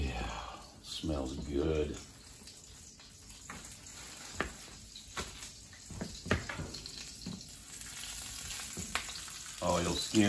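Hot dogs sizzle and crackle in a hot pan, a steady frying hiss with occasional pops and clinks, while someone talks over it.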